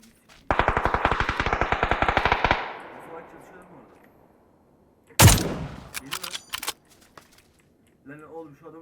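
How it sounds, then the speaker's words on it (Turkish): PUBG gunfire, likely including the Mosin Nagant rifle, with a rapid automatic burst of about two seconds, then a loud single crack trailing off with echoing reports, and brief game sounds at the end. "iki mermi attım"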